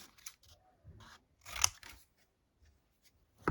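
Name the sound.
scissors cutting scrap material into triangles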